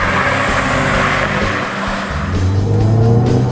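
A Mini Cooper convertible driven hard through turns, its engine droning loud and steady close up with a rising note and faint tire noise toward the end.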